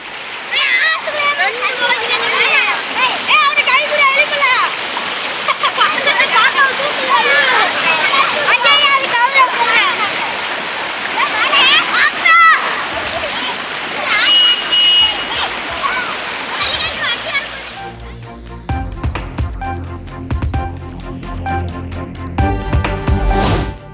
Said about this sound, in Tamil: ஆலங்குளம் கண்மாயில் ஏற்பட்ட உடைப்பால் குடியிருப்புகளில் புகுந்த வெள்ளம் நீர்.